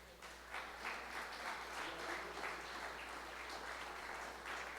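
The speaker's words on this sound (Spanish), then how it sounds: "Denle un aplauso al Señor." A church congregation claps in praise during a sermon, a full, even roar of many hands sustained throughout at steady loudness, with no voices over it.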